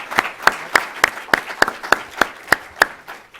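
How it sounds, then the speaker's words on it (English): Scattered clapping at a policy conference on the US-Mexico border after a panel, a few distinct hand claps falling in a regular, even rhythm, close and crisp with no talking over them. "Thank you to all of our panelists. Let's give them a warm Thank you, Chris."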